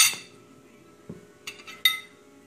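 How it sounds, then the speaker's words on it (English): A spoon clinks against a cup while stirring honey into green tea, a few light, separate taps and rings spaced over a couple of seconds in a quiet room. "Stir it a little."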